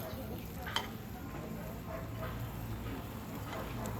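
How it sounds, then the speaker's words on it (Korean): An omelette cooks in a pan at a hotel breakfast station in Türkiye, with a steady sizzle and occasional scraping or stirring that runs throughout at moderate, close range. "저렇게 오믈렛을 만들어주고 계세요"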